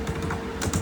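Keys on a computer keyboard clack in a quick, light flurry as a pip install command is typed, close and fairly quiet, with no voices.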